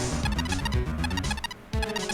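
An electromagnetic receiver in the Ace Attorney video game gives off a buzzing, warbling electronic noise with pulsing tones, steady and fairly loud for about two seconds, with a short dip near the end.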